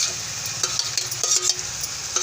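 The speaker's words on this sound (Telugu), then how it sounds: "మష్రూమ్స్ ఇందులో వేసేసి వేయించుకోవాలి ఒకసారి" Mushrooms coated with salt, chili and turmeric fry in a pan, a loud, dense sizzle with repeated quick stirring scrapes over a low background hum, and no speech.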